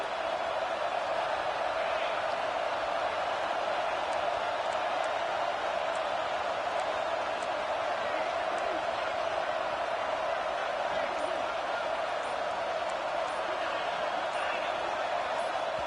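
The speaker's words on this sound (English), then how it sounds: "with this place rocking, the crowd forces a false start" Stadium crowd at a college football game, Notre Dame against Georgia, roaring in a steady, dense wash of noise that holds loud and unbroken throughout, with no clear speech rising above it.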